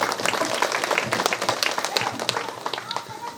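An audience at a village pyramid anniversary function claps together, a dense patter of many hands rising and falling over a few seconds, with nearby voices mixed in.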